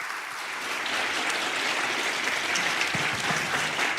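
A church congregation at a Sunday service claps in welcome, a steady dense roar of many hands that starts quickly and holds, fairly loud and with no talk over it.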